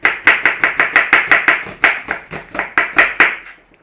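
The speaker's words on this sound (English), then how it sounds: "what we're going to do is slice them thinly" A knife slices onions thinly on a board in a quick, even series of about fifteen crisp, loud chops, slowing slightly before stopping.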